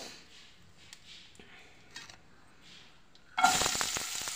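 Asafoetida dropped into hot desi ghee, a sudden bright hiss that bursts in near the end after a quiet stretch of faint clinks, then keeps sizzling loudly up close.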